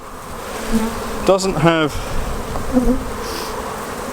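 An open honey bee hive colony during an inspection gives off a dense, continuous buzz at close range, while a voice briefly speaks over it.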